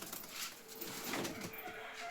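Pigeons in a coop give soft, low cooing and some rustling close by, under steady faint background noise.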